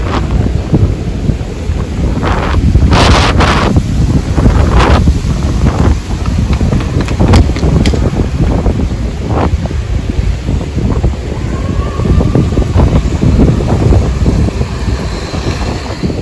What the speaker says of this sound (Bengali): হাওয়াটা দেখো শুধু, জানি না তোমরা কতটা বুঝতে পারছো